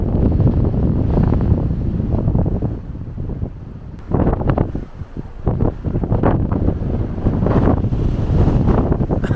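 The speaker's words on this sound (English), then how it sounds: "it's going to be really windy again" Strong coastal wind on the Jersey shore buffets the microphone in loud, rough gusts, with brief lulls between the blasts and no voices.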